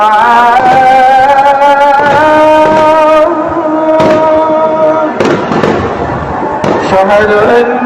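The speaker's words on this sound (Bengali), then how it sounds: "শুনিছেন মুহুর্মুহু গুলির শব্দ আর ফজরের আজান।" Rapid bursts of gunfire crackle repeatedly through a played recording while the dawn call to prayer is chanted loudly over them, the shots coming in irregular clusters.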